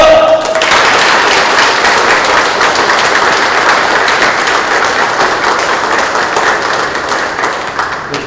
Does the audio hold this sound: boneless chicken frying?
no